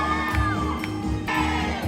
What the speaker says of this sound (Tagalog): Wala pa tayong palakpakan, may kasamang sigawan!